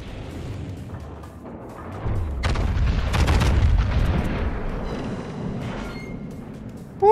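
High-explosive naval guns on a battleship in a warship game, firing as a heavy rolling boom that swells after a quiet rumble and then fades into a low drone.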